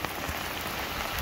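Rain falling hard around an electric car, a second-generation Nissan Leaf, during charging: a dense, loud, unbroken hiss of drops close by, with no voices.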